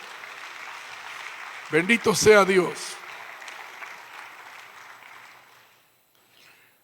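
A church congregation claps in a soft, hissing wash of applause while a voice briefly calls out in the middle; the clapping thins and fades away toward the end.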